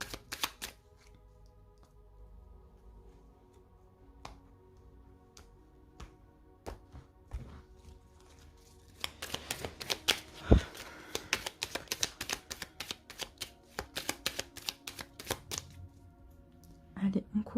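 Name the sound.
shuffling and cutting a deck of tarot cards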